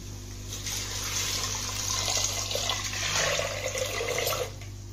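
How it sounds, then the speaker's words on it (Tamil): Water pouring steadily into a pressure cooker for rice and lentil porridge, a continuous close splashing fill lasting several seconds with no voices. "நான் 5 கப் தண்ணி விட்டுருக்கேன்."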